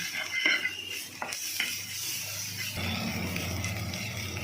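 Ginger garlic paste frying in a pan, with a low sizzle under quiet metallic scraping and clinks of a spoon against the pan, fairly faint and steady, no talk.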